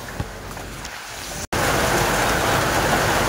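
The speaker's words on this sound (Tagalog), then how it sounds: "kusog ng ulan" Heavy rain pours down steadily as a dense, loud broadband hiss, starting softer and surging to a full downpour after a brief cut.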